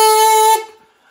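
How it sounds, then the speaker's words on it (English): A homemade kazoo-style trumpet built from a cardboard tube, foil and an elastic band gives one loud, steady buzzing toot with a strong harmonic tone for about half a second, then cuts off sharply and leaves silence. "my very own kazumpet, which sounds a bit like this."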